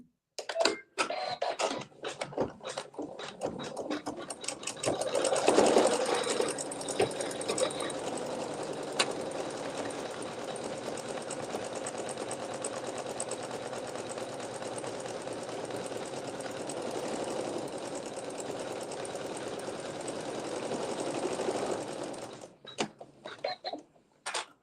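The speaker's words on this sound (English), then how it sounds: "So we'll sew the satin stitching over fabric 5." A sewing machine satin stitching over quilt fabric runs in one steady, continuous whir for about twenty seconds, with a few short start-and-stop bursts at the beginning and end, close and clear with no talking.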